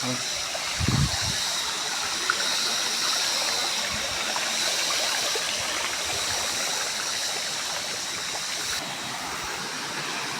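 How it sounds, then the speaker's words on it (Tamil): A small waterfall and stream at Vathalmalai, a hill area, produce a steady, broad rush of flowing water throughout, with faint low thumps early on and no clear talk over it. "சின்ன சின்ன அருவி மாதிரி இருக்குது. தண்ணியெல்லாம் கீழே வருது பாருங்க."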